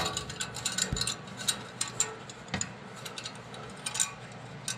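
Exhaust clamps are tightened under a 1988 Corvette with a ratchet, producing quick bursts of close, clicking pawl ticks separated by short pauses and an occasional metallic knock.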